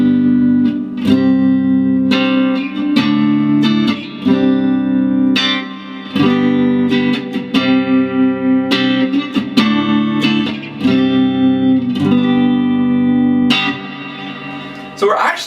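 An electric guitar on the clean channel of an amplifier with reverb, playing ringing chords and single strummed notes in a steady rhythm, loud and close, with a short reverb tail on each attack.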